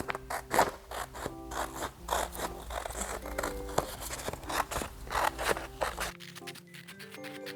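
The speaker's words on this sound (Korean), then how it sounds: "예쁜 색지와 나비 그림이 그려진 도면을 같이 잡고 나비 모양을 오려주세요" Scissors snip colored paper held against a butterfly outline, a run of crisp, close cuts in an irregular rhythm with small paper rustles, ending in a short quieter stretch.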